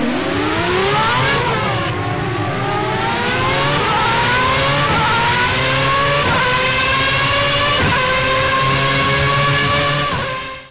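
Racing car engine in the video game Project Cars, driven in wet weather, revs continuously and loudly for the whole stretch, its pitch sweeping and rising through gear changes with a steady high-pitched whine.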